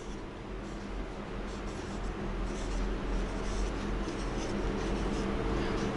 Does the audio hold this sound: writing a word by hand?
yes